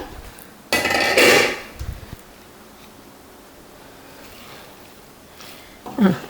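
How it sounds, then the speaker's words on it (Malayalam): A metal lid comes off a cooking pot of semiya upma with a loud clattering scrape and rattle, then a short clink, quiet, and a final soft knock. "നമുക്കിതിൻ്റെ ലിഡ് ഒന്ന് മാറ്റി നോക്കാം"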